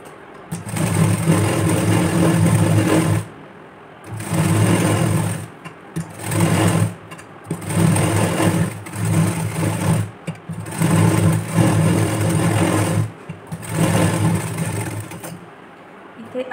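A sewing machine stitching a 32-chest-size blouse with a gopi sleeve runs close and loud in repeated bursts of steady whirring. Short pauses separate the runs, which last from one to several seconds.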